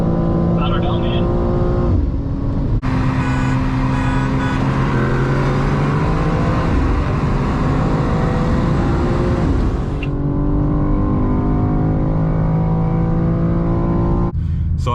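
A stock 2024 BMW M2 G87 accelerating hard while racing another M2, a loud sustained engine roar rising through gears with shift breaks, heard from inside the car with someone talking over it.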